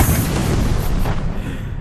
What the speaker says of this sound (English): Told you, guided missiles are pretty strong.